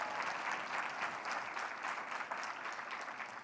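Dense, steady applause from a keynote audience fills the hall, loud and continuous with no voices standing out.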